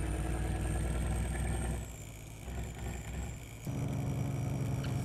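A Kenworth W900L dump truck towing an Eager Beaver trailer in American Truck Simulator drones with a deep, loud engine note that dips briefly between gears before pulling strongly again.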